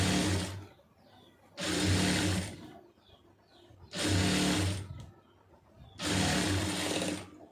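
Sewing machine stitching a blouse hem, running in four separate bursts of about a second each with short quiet pauses between them, loud and close with no talking.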